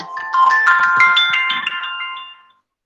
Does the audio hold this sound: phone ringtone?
yes